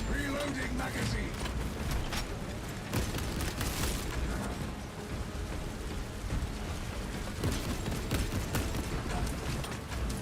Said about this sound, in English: reloading magazine.